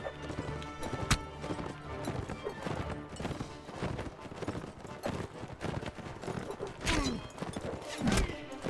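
Horse hooves clatter in a busy Mount and Blade Warband battle, with steady clip-clop running beneath dense combat noise, clashes and shouts, a few louder impacts standing out.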